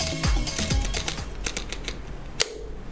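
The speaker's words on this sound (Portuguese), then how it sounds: "ouve-se um clique bastante diferente" An FLM camera tripod pan head is rotated to 0 degrees and locks. A quick series of close, dry ratcheting clicks ends in one sharper, distinct snap.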